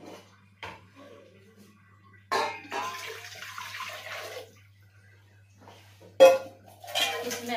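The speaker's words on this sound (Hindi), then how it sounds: "और इसमें डालेंगे पानी।" Tap water runs into an empty cooking pot for amla murabba in a home kitchen, coming in short bursts with metallic pot and utensil clatter between quiet pauses.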